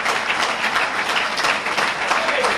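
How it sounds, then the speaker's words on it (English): An audience at a mosque gathering gives a steady round of applause, a dense, continuous wash of many hands clapping at even loudness throughout the short stretch. "Let's give our FOI a well-deserved round of applause."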